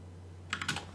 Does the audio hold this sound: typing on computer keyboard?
yes